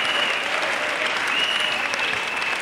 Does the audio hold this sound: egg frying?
no